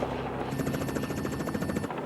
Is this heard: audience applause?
no